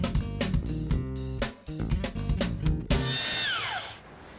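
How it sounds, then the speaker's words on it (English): A belt sander runs on wood in bursts, its motor whirring loud and close with rhythmic pulses and short stops, ending in a tapering whine as it spins down. "Today I'm sanding some wood with a belt sander."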